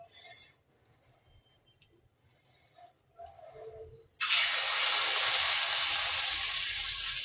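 Chow mein pakoras dropped into hot oil burst into a loud, steady sizzle after a few seconds of quiet kitchen clicks, with the frying continuing close and bright to the end.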